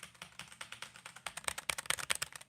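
Fast, steady clicking of a computer keyboard being typed on, close and dry, with dense irregular keystrokes that grow slightly louder and busier toward the end, no voices.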